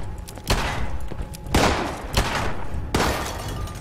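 Gunfire in Fallout 76, three sharp cracks at irregular intervals, each with a short ringing tail, over a low noisy game background with no speech.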